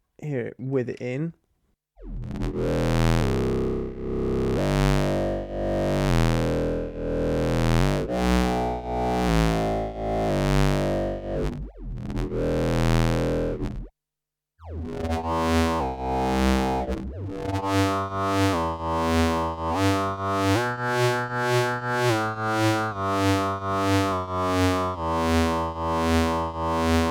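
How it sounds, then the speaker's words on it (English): A Sputnik Modular dual oscillator patch under external CV modulation gives dense, buzzing synth tones that sweep and pulse in sustained phrases, with a brief pause and then a faster rhythmic sequence, loud and with no talk. "by a relatively small amount of external modulation, you can get a pretty dense sounding patch"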